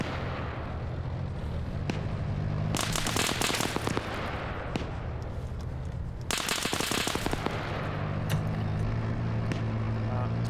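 A BMP armored vehicle firing in a military combat game, two loud bursts of rapid cannon fire over steady battlefield noise, with a voice talking in between.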